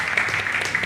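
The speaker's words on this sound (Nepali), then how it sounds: "एकचोटि जोरदार ताली हाम्रो तीनजना प्रतिस्पर्धीको लागि" A studio audience at a televised dance competition applauds the three contestants, a dense, loud burst of clapping filling the short moment.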